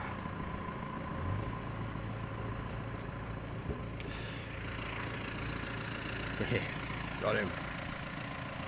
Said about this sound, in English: I can hear a fairly large tractor coming up behind me